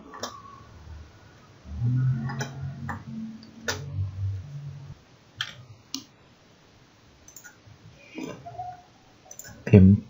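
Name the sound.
computer mouse clicking in LTspice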